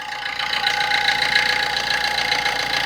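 A 2011 Maruti Swift Dzire car engine idles steadily nearby, a continuous mid-pitched hum with a faint rhythmic knock and no talking.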